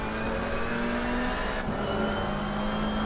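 GT3 race cars in a racing video game, a McLaren among them, with engines droning continuously at high revs, a steady close whine holding throughout and a slight pitch shift midway.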